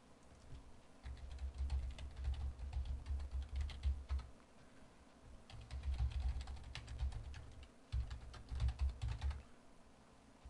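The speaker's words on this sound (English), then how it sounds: "I knew I typed that in incorrectly there" Someone types a password on a computer keyboard, the clicking keystrokes coming in quick irregular bursts, close up, with a short pause midway and no talk.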